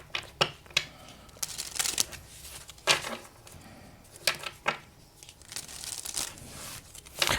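Oracle cards are shuffled and drawn from a deck, giving soft papery riffles, slides and crisp snaps in irregular bursts, close up with no talking.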